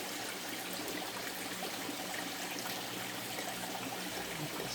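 Creek water flows steadily past banks overgrown with dog fennel, a continuous broadband babble and trickle that holds an even level throughout with no voices.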